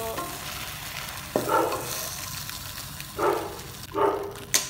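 Leftover ginger beef reheated in a pan, with steady frying sizzle under intermittent scraping stirs from a utensil, close and moderately loud.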